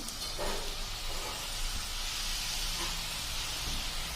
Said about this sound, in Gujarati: તેલમાં આમ સેવ મેકર રાખીને આ રીતે તમારે ઉપરનું હેન્ડલ ફેરવતું જવાનું